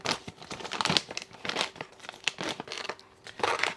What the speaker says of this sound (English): we've got to rip it open up here